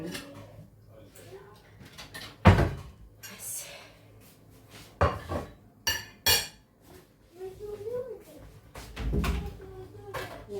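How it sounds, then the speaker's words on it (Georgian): A large baking tray is pulled out from among pots and pans in a home kitchen, setting off several loud metallic clangs and rattles separated by quieter shuffling. "გამოვიღოთ ხა ისე დიდი თებში"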